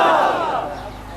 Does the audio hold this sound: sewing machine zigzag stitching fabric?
no